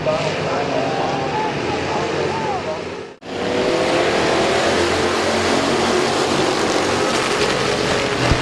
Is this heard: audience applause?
no